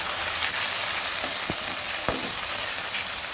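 Fish-head curry base with shola kochu (taro stems) sizzling steadily in a pan as a little water is added and stirred, with a couple of sharp spitting crackles over the continuous frying hiss.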